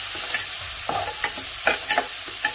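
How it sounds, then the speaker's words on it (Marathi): Finely chopped onion frying in a pan for a pea curry, a soft continuous sizzle broken by several sharp scraping clicks of a spoon stirring at an uneven rhythm, close and alone. "आता हे चांगलं आहे ना कांदा आपल्याला भाजून घ्यायचा आहे"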